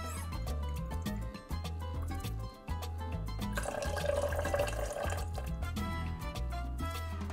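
Pineapple juice trickles and splashes into a cocktail glass in a short pour, faint liquid sounds sitting under steady background music.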